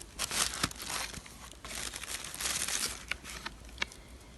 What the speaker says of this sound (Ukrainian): Ось відкрила подаруночок